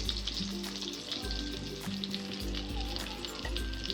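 Boiled eggs frying in a pan with turmeric, salt and chili powder for a garlic egg dish. A dense, continuous sizzle of hot oil plays against a low humming background, with no speech.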